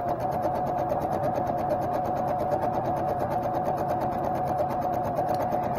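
A sewing machine stitching down a mended rip in clothing runs continuously at steady speed, a close, even mechanical whirr with rapid needle chatter and a constant tone throughout.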